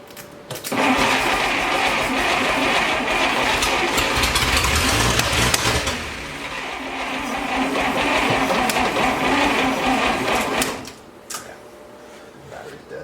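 Engine of a 1941 Plymouth barn find, started for the first time in 50 years, cranking and catching into a loud rough run that sags midway, then cutting out when the starter quits.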